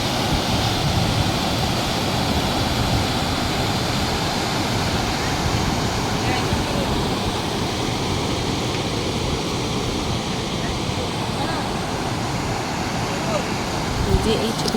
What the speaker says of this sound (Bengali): কত সুন্দর জলের স্রোত